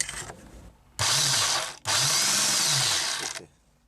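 Electric metal shears cut the rotten lower edge of a VW T3 rear hatch in two loud, close bursts of harsh mechanical buzzing, separated by a short pause.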